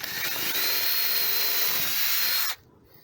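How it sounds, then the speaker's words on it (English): Drill boring a bolt hole through a wooden RV bed platform board, a loud steady whine for about two and a half seconds before cutting off abruptly. "Now that I have the holes drilled out for the bolts for the struts"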